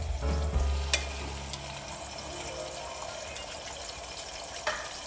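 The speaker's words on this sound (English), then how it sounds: "So let's start frying my fish." Steady frying sizzle of fish in oil, soft and continuous, with a few faint clicks and a brief clatter near the start; no talking.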